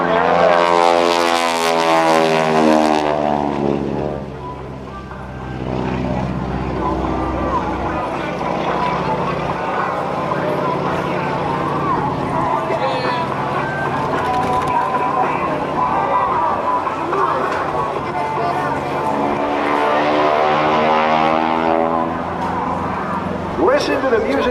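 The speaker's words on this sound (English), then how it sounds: "Listen to the music this motor makes, and this is not an ordinary Stearman. That's what a Super Stearman sounds like" Super Stearman biplane performing aerobatics at an airshow, its radial engine roaring loudly and continuously with rising and falling pitch as it climbs, loops and dives, under an announcer's commentary.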